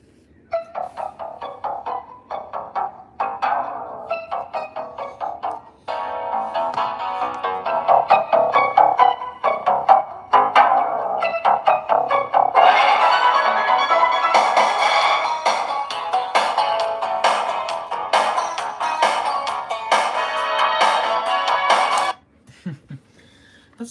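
A bassy song played through a speaker strobe, heard as tinny, compressed music with dense rhythmic hits that builds in intensity before stopping abruptly near the end.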